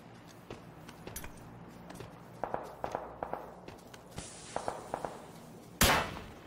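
Gunfire in the video game PUBG: scattered sharp cracks and thuds, mostly faint and distant, ending in one louder, nearer report with a brief tail.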